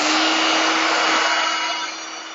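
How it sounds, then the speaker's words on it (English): A hair dryer blows steadily on hair in a loud, close, constant whoosh with a faint motor whine underneath, easing slightly toward the end. "I'm kind of curling it under and blow drying it as well"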